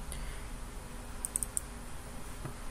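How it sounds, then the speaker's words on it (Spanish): A few quick, faint clicks of a computer mouse while building a blank database in Microsoft Access, set against a steady low room hiss with no talking. "así que le damos clic acá"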